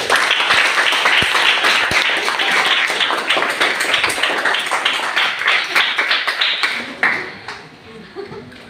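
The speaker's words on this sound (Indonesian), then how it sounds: "Tepuk tangan untuk Aisyah." Children in a classroom clap for a classmate, a dense burst of close applause that tapers off near the end.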